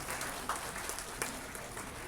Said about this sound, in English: Another round of applause to these fellows.